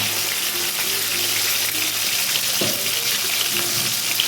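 Pieces of rui fish fry in hot oil with a dense, steady hiss and crackle, close and continuous from start to finish, and no one talking.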